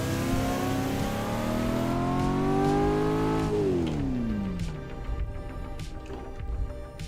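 V8 car engine in a driving video game, revving hard with pitch climbing steadily, then a sharp drop as the throttle lifts, leaving a quieter idle rumble with faint clicks and whir.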